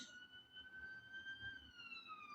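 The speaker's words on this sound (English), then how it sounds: "Oh, we've got sirens again." A distant siren wails with a smooth, rising and falling tone, faint but steady over low background rumble.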